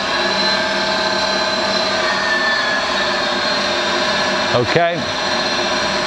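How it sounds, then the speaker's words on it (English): A Doall FV1V heavy-duty vertical milling machine with a 40 taper quick-switch spindle runs steadily in low range, a constant loud motor whine with a brief speed change near the end; a voice speaks a single word. "Doall vertical milling machine, model FV1V, serial number 75. We're gonna run it for you."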